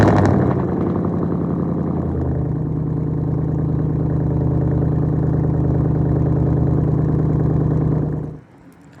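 A 2011 Chevy Silverado lowered 'Bubba' truck with straight-pipe exhaust and 5-inch tips idles close and loud with a deep, steady, throbbing rumble that holds even throughout before cutting off abruptly near the end.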